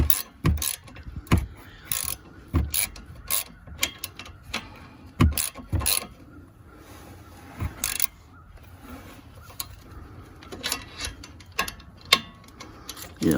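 A ratchet wrench tightening the front sway bar link nut on a 2018 Honda Civic, giving close, repeated metallic clicking bursts with short gaps between strokes.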